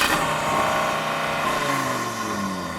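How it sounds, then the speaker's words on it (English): An Audi RS3 five-cylinder on its standard stock exhaust revs hard at a standstill, a loud close engine note holding steady and then sliding down as the revs fall, with no voices over it. "Go on, rev at the Audi. Let's have a listen to it."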